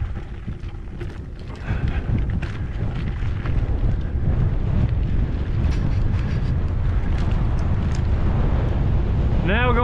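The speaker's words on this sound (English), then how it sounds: "Now we're going into a headwind," Headwind buffets the microphone of a cyclist riding downhill near North Gainesville, Texas, as a loud, low, rumbling roar that swells after the first couple of seconds and stays heavy to the end.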